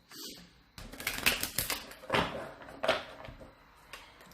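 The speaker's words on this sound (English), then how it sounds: "Let me get a good couple of shuffles real quick." A deck of tarot cards is shuffled close up: a few crisp bursts of riffling and tapping cards, separated by short pauses, in a quiet room.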